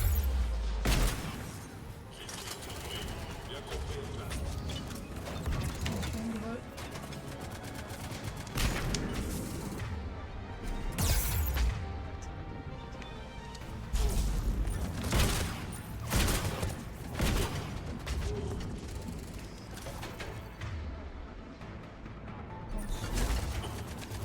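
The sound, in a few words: turret gunfire in Mass Effect 3 video game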